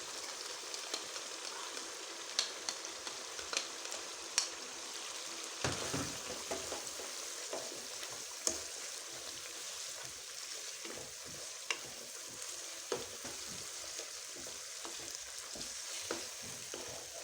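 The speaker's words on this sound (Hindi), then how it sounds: "इस स्टेज पे हम इसमें दही डालते हैं ताकि अच्छी ग्रेवी बने।" Yogurt being stirred into chicken korma gravy in a pot: a soft, steady bubbling sizzle with irregular scrapes and taps of a spoon, fairly quiet and close, no speech.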